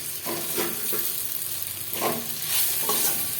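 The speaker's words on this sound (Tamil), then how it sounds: "இப்போது இந்த முட்டையை போட்டு வறுத்துக்கலாம்." Egg frying with onions in a pan for a spicy egg sukka, a steady sizzle broken by several scraping stirs, close and fairly loud with no talking.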